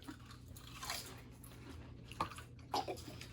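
Crunchy Asian Lay's potato chips being bitten and chewed up close, a few sharp crisp crunches standing out over a quiet background, no talking.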